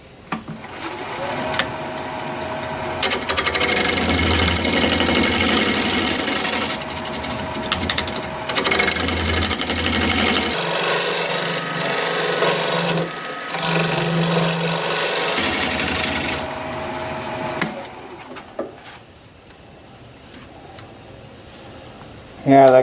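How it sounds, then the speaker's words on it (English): A scraper refines the shape of an olive wood bowl spinning on a lathe, giving a loud, sustained whir and rasp that changes in tone as the cut shifts, then stops near the end. "I'm going to put my scraper on there and see if I can't kind of refine that shape a little bit"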